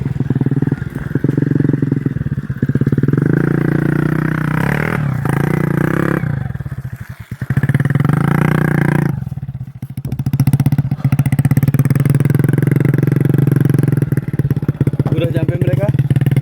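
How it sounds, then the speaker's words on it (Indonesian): A motorcycle engine runs loud and steady throughout a ride on a road to a remote village, its drone rising and dipping with some clatter while people talk over it. "Motor siapa di belakang? Motor temannya."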